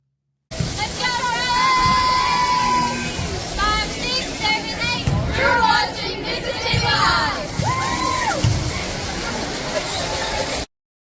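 A school cheer squad shouts and cheers in unison, high young voices chanting and yelling rhythmically with crowd noise underneath, loud and close.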